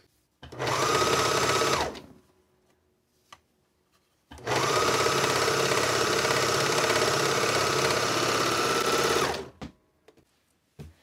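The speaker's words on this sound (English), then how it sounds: "So I'm going to take this over to my serger, and I'm going to remove this pocket." A serger sewing machine stitches and trims a pocket off a dress, two loud close bursts of rapid whirring, a short one and a longer run of several seconds, separated by a quiet pause.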